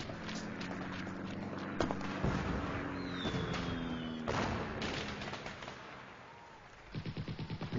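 Animated gunfire crackles in sharp, irregular bursts over a busy background, with a quick run of evenly spaced shots near the end.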